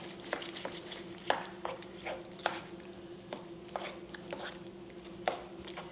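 Cooked bacon stirred through pasta in a pan with the heat off, giving soft squishy scraping and intermittent sharp clinks of the utensil against the pan at an irregular pace, close and fairly quiet with no talking.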